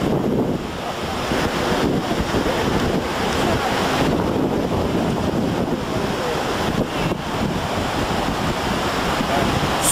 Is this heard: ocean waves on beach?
yes